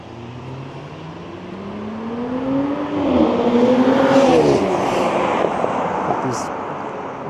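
Cars racing along Dundas Street in Toronto at night, engines revving and climbing in pitch as they accelerate past, loud and close with wind noise, then fading into street rumble.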